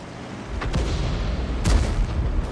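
A 105 leFH18B2 artillery gun fires in a video game, with a deep booming blast and a second heavy report following shortly after over low battle rumble.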